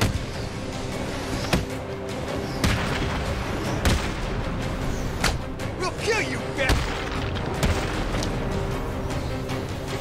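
Enemy gunfire in Batman Arkham City crackles through a dense, noisy game mix, with scattered sharp shots and booms standing out over a constant rumble and bursts of voices.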